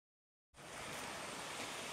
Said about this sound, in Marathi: इकडे छोटा मिनी धबधबा आहे.